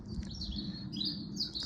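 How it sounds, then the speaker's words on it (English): A robin sings loudly among other birdsong in a garden in March, with high bright phrases repeating over a steady low background hum. "bird song, the robin's especially loud"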